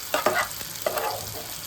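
Octopus dropped into a hot frying pan for adobo, giving a close sizzle with a few quick clattering stirs and scrapes in bursts; no speech is heard.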